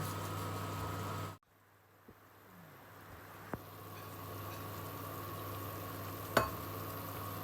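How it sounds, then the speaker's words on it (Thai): A pot of bitter melon soup stuffed with pork and glass noodles simmers on the stove, a soft steady bubbling hiss with a few faint clinks, no voices. "ต้มมะระของเราก็ เดือดใกล้สุกแล้วค่ะ เดือดตัวตัวตัวตัวแล้วค่ะ"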